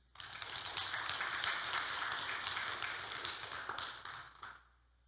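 A church congregation claps together during a Sunday worship service, a dense, sustained wash of applause filling a large room for about four and a half seconds before fading out.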